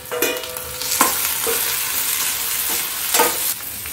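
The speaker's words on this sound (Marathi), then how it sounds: "तर आपला कांदा आणि टमॅटो पण व्यवस्थित परतवून झालेला आहे, फ्राय झालेला आहे." Onion and tomato masala fries in a pan, a steady close sizzle with intermittent scraping clinks of a spoon stirring, no voices.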